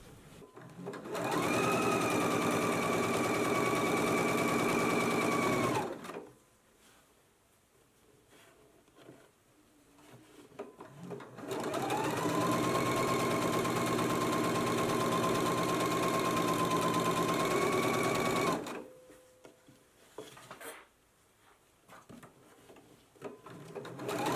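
A sewing machine shirring fabric for a McCall's 7946 summer dress runs in two long steady bursts of fast, even stitching, separated by a short pause with quiet handling noise, loud and close.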